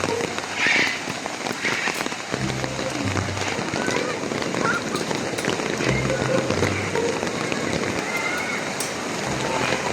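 Steady rain falling on an open area at Yoki's Farm, a dense continuous patter close by, with people talking over it.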